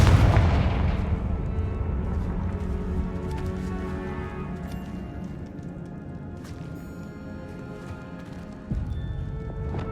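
A Confringo fire blast spell from the video game Hogwarts Legacy erupts as a loud, booming explosion at the start. It fades into a long rumbling tail, and a second, smaller burst hits near the end.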